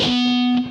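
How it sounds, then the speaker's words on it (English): Electric guitar played through the high-gain distortion setting of a vintage KORG G1 guitar distortion processor, a single sustained, buzzy, saturated note ringing loud and close with no talk over it. "High gain distortion is number 3."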